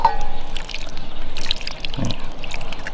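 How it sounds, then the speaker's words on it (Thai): Spicy Thai mixed-seafood salad dressing is poured from a bottle onto the seafood. The liquid glugs and trickles up close and loud, ending in a short splash. "เทน้ำยำลงไปเลยนี่"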